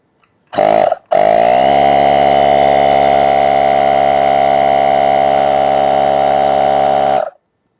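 An electric air compressor or pump inflates the inner tube of a RadRunner eBike's rear tire. It gives a loud, steady mechanical drone, starts briefly, pauses, then runs continuously for about six seconds before cutting off.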